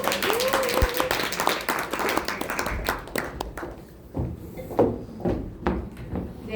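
Audience applause at an indoor business seminar in Bundang, a burst of clapping hands that thins into scattered claps and thumps, with a voice talking over it.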